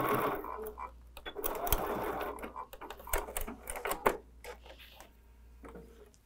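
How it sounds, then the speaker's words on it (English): A home sewing machine runs a quick basting stitch on a fabric laptop case, giving bursts of rapid needle clatter with brief pauses and small knocks, close up, quietening toward the end. "I like to take this to my machine and just add a little like basting stitch real quick"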